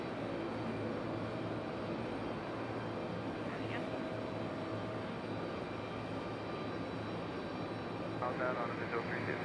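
An ATR turboprop airliner at Raleigh-Durham airport gives a faint, distant, continuous engine drone beneath steady background noise.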